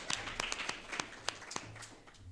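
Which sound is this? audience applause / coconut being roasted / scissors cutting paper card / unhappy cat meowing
audience applause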